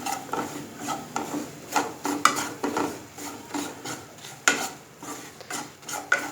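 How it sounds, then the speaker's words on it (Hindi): A spoon scrapes and rubs through besan roasting with a dal filling in a pan, giving repeated rasping strokes at a steady rhythm, close and moderately loud, with no talking. "हल्का सा इस बेसन को मैं इसके साथ भूनूँगी।"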